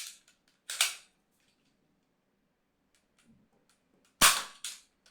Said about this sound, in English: Now I'm gonna hit that robot with the tiny dart